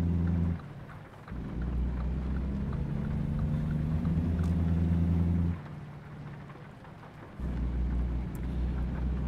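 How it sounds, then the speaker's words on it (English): Rain falls in the American Truck Simulator video game, a steady hiss of rainfall over a low engine drone that drops out briefly and returns, with no one speaking. "the rain is so well simulated in this game"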